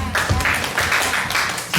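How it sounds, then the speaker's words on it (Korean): Applause from a high school youth group at a church worship service: a steady, dense wash of many hands clapping together for nearly two seconds, fairly loud and close, with no pauses. "우리 칭찬 박수 시작."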